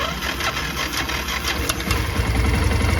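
An EFI petrol engine with its fuel injector runs in a steady, close, mid-pitched idle with a fast, even rhythm and no talk over it.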